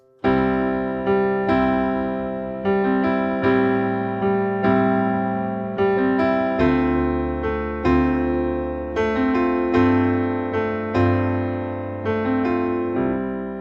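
Rhythmic piano chords sound in a low register, a rich, bassy pattern of repeated strikes that ring and fade, played alone.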